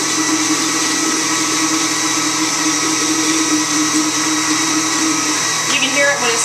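A blender whirring loudly and continuously while mixing homemade mayonnaise, a steady dense motor drone close by with a slight change in pitch near the end as the mixture thickens.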